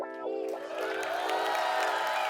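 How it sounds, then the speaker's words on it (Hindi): Studio audience on an Indian comedy talk show bursts into cheering and applause for a tennis star guest, a loud sustained crowd roar following a host's voice at the start. "तो आप सबकी जोरदार तालियों के बीच मैं इनवाइट करना चाहूंगा इंडियन टेनिस सुपरस्टार सानी।"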